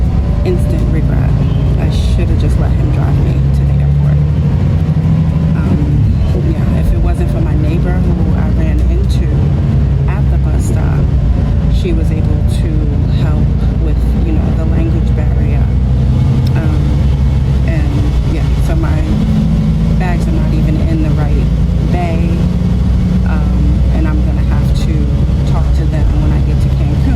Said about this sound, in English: so now I'm sitting on this crowded bus